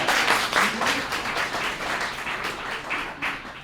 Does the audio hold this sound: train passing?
no